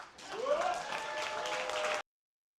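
Audience clapping at a sovereign citizen conference, a short burst of steady applause with crowd voices and whoops mixed in, rising quickly and then cutting off abruptly.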